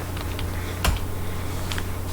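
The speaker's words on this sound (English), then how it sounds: "type in your code" Code typed on a computer keyboard as a few faint, quick key clicks, one slightly firmer tap in the middle, over a steady background hum.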